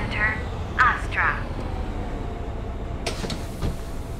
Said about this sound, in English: Could you open the door again, please?